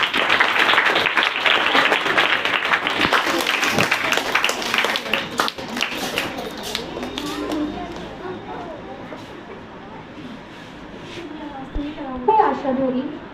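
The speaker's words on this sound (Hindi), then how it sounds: "तो एक बार तालियों के साथ स्वागत करूंगा।" An audience at a Hindi Day event at a school academy claps loudly to welcome an English teacher, the applause fading after several seconds into murmuring voices and room chatter.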